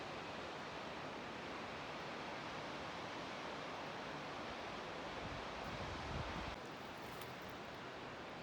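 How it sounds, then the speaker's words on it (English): A small waterfall beside a river trail in the Rockies near Mt Hoffmann gives a steady, dense rush of falling water, constant and fairly loud with no pauses, with a faint extra splash late on. "There's a little waterfall that few people see."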